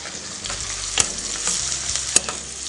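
Diced onions fry in a pan with a steady, close sizzle, with occasional sharp clicks from stirring.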